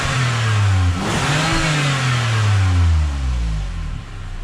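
A Lexus V6 with stock exhaust revs hard and alone, its pitch climbing and falling in a couple of loud sweeping pulls before easing off.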